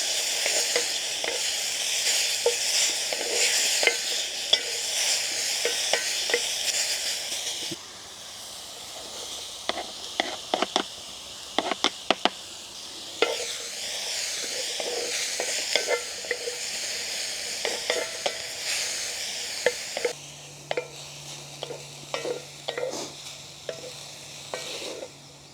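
Beef browns in a very hot pot for Greek giouvetsi at a rainy campsite, a loud continuous sizzle and hiss broken by clinks and scrapes of stirring, with the level shifting as the meat is moved.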